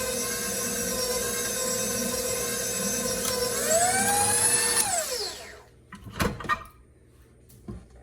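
Electric mixer working flour into butter pecan pound cake batter: a steady, close motor whine that rises in pitch, then winds down around five seconds, followed by a few sharp clunks against the bowl. No talking.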